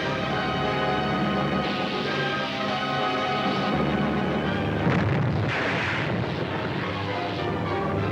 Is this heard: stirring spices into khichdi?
no